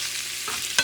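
Shrimp frying in oil in a pan give a steady, close hiss of sizzling, with one brief sharper crackle near the end and no talk.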